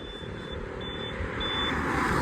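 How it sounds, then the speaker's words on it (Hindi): Fast cars and trucks rush past on a busy road near Jaipur, Rajasthan, a steady loud roar of traffic building slightly over the moment, with a faint high tone like a reversing beep repeating in the background. "बहुत तेज गाड़ी आ रही है यहाँ पे, रुकना थोड़ा मुश्किल है लोगों का"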